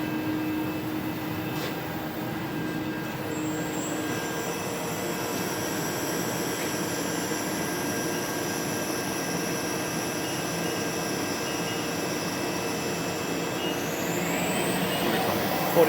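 A Trak DPM-5 CNC vertical mill spindle spins at 4500 RPM, a steady high-pitched whine with tonal hum underneath, holding constant for several seconds before the pitch rises near the end.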